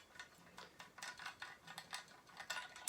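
A trumpet's third valve cap is unscrewed by hand, giving a quick run of faint, close scraping ticks as the metal threads turn, repeating in short uneven strokes.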